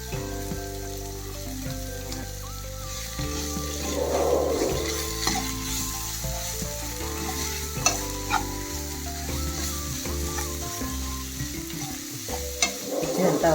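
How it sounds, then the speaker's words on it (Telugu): Boiled potato mixed with masala and vegetables being stirred in a pan for street-style bread pakoda, with a steady sizzle and repeated scraping and clattering of a spoon against the pan, close and continuous. "ఇదంతా ఒకసారి కలిపిస్తుంటే"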